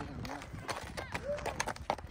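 A horse moves with soft clip-clop hoofbeats and faint snorting noises, heard briefly beneath people talking nearby.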